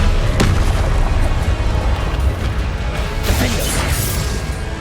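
A Confringo blast spell explodes in Hogwarts Legacy, a loud fiery boom with crackling crash amid continuous dense combat noise, sharp hits landing near the start and again later.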